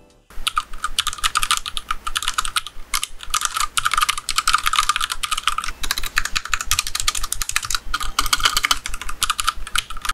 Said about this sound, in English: I will be typing first on two keyboards, my RK61 with Gatorin Browns